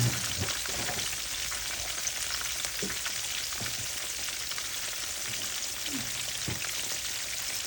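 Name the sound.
fish frying in oil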